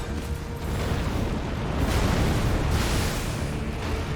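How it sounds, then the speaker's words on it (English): A sustained, loud explosive rumble from a boss fight against Maliketh in the video game Elden Ring, set in Crumbling Farum Azula, with a dense roaring body that swells around the middle and lingers without a break. "There's another explosion?"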